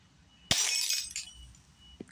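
During a walk around a city, glass suddenly shatters in a single burst of crashing and tinkling shards, followed by a faint clink as debris settles.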